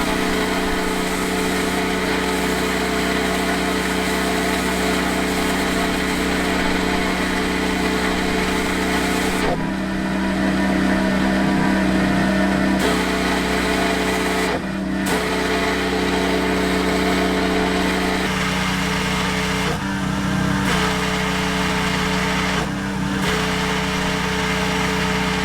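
Pressure washer with a foam cannon attachment spraying a truck, a loud steady motor drone with hissing spray that runs continuously, with brief dips and changes in pitch as the trigger is released and pulled again.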